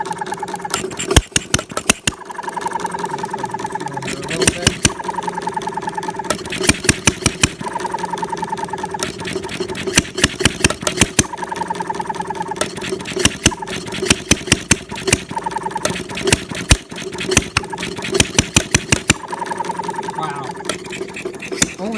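A small stationary 4-stroke engine on a half-scale DeBolt machine chugs and pops in an uneven, rapid rhythm, loud and close, with short breaks where it sputters.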